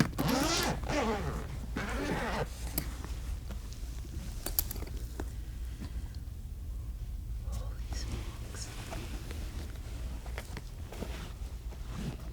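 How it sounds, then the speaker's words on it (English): A zipper on a ukulele case is pulled open in a few quick, close rasping strokes near the start, followed by soft rustling and faint whispering at low level. "Zipper."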